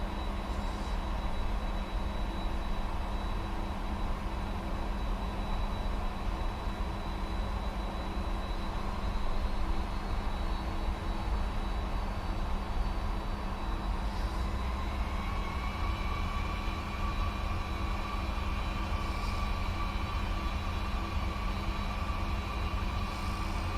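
Cargo airplane engines spool up to takeoff thrust on the runway at Detroit's airport, heard from the cockpit as a loud, steady broadband roar whose tone rises partway through and then holds.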